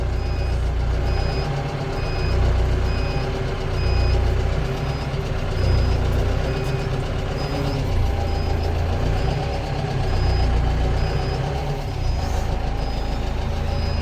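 A Farmlead 504 tractor engine runs at a steady, loud, low idle, with a regular high beep repeating throughout over the rumble.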